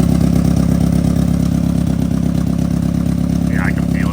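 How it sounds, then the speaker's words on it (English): Engine idles steadily with a rough, chuffing pulse from an exhaust leak near the front, on a car being fitted with a custom 3-inch oval exhaust; the sound is loud and constant, and someone talks briefly near the end. "There's definitely an exhaust leak up here."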